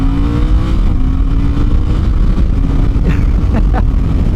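A Suzuki GSX-8R's 776cc parallel twin rumbles steadily up close, a loud low engine drone with a slight rise in pitch near the end and no voices.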